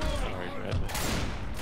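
Gunfire in the co-op zombie shooter Left 4 Dead 2 cracks in a rapid, dense burst, loud and close, filling the short moment with overlapping shots.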